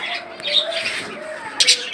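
Caged budgerigars kept for sale give bright, scattered chirps and short twittering calls, close by and fairly steady, with a sharper burst near the end.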